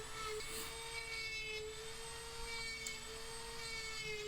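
Dremel grinder carving a birch wood Santa face, a steady high whine holding one pitch throughout, close and fairly faint with slight fluctuations as the tool bites the wood.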